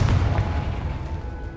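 A Confringo fire spell explosion in the Hogwarts Legacy video game, heard as a short, loud, deep boom that rolls off and fades within under two seconds.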